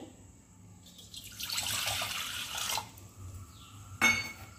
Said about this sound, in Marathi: आता यात आपण हे 1 वाटी जे पाणी घेतलंय ते घालून घ्यायचं